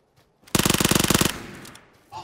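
A rapid close burst of automatic fire from an Uzi submachine gun in the PUBG video game, about a dozen quick shots over under a second, then a fading echo.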